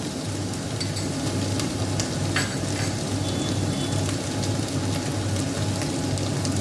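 Soaked turmeric and chili powder hit a hot pan for muri ghonto, giving a steady, dense sizzle and crackle with no talk.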